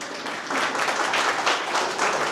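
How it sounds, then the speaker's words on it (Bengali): Audience at a school alumni reunion gives a steady round of hand applause, loud and close, holding an even level throughout with a slight swell after the start. "একটু করতালি দেবেন সবাই।"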